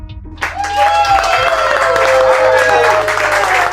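Studio audience applause with some cheering greets a game show guest, a three-time champion and podcast host, at a live taping; the clapping starts sharply after a brief low hum and stays dense and steady, with a whooping voice riding on top.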